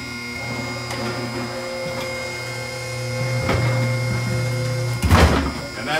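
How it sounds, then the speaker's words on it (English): A truck tire mounting machine reinstalling a tire on its wheel: steady electric motor drone with a mechanical whine, loud and close, ending with a heavy clunk and rattle as the tire seats. "He's going to reinstall the tire on the wheel now"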